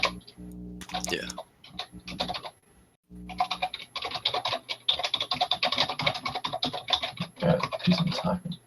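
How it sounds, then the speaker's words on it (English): Rapid clicking on a light-up computer keyboard, first in a few short bursts, then after a brief pause a dense, continuous run of keystrokes, close and fairly loud. "Do some typing."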